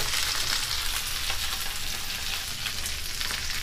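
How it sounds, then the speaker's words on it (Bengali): Tandoori chicken fries in oil in a pan with a steady, dense sizzle and crackle close up, continuous throughout with no talking. "আর কিছুক্ষণ আমি এভাবে এটাকে ফ্রাই করে নিচ্ছি।"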